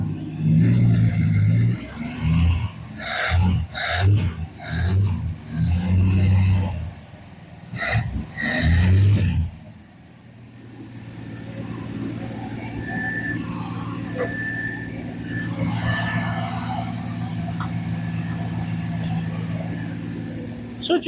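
A Dodge Dart engine idles steadily after its choke opens, a low, even rumble heard close by. Loud bursts of noise and thumps sit over the engine at the start, then the idle carries on alone.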